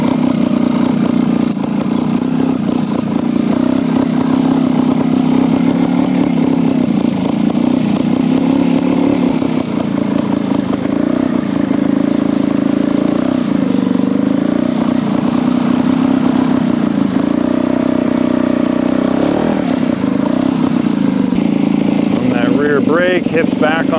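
A motorcycle engine hums steadily at moderate revs through cambered turns on a downhill route, loud and continuous, with a rider talking over it throughout.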